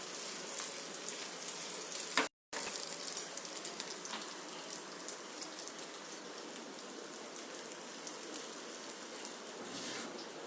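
Butter browning with garlic sizzles and crackles in a pan, a soft steady hiss of fine pops broken by one brief dropout, continuing evenly throughout.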